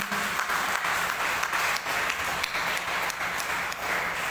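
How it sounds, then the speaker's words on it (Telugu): A church congregation at a Tuesday Mass claps together in steady, dense unison, a continuous loud wash of hand claps with a faint rhythmic pulse and no talk over it. "2 చేతులు చప్పట్లు కొట్టండి"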